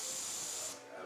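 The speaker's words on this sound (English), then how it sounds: "Airbrush is so easy. Really, when it comes to just spraying color like this," An airbrush sprays paint onto a Dodge 330 interior part, a close, steady airy hiss lasting about a second before it cuts off.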